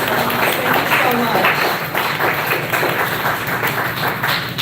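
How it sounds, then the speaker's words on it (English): Audience applause fills the hall after a book talk, a steady dense patter of many hands continuing throughout with a few voices briefly speaking over it. "Another round of applause."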